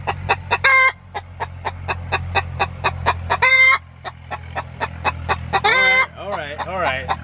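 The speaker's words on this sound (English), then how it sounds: "so that's our chicken." Hens clucking in a backyard coop with a new hay nesting box, a rapid steady string of close clucks broken by a few louder drawn-out squawks and calls.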